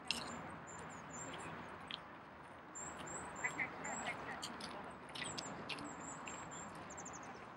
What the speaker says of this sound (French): Alors il y a des tribus de canards comme vous pouvez le constater.